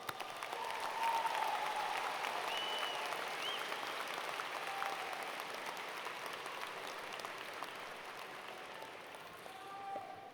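A commencement audience applauds in a large room, a dense steady wash of clapping that holds for several seconds and then slowly thins out.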